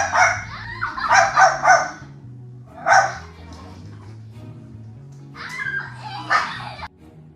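A dog barks in several loud bursts of rapid, yelping barks, pausing between volleys, over a low steady background hum.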